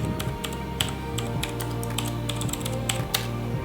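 Java code being typed on a computer keyboard, rapid irregular clicking keystrokes close up over a steady low electrical hum, no voice.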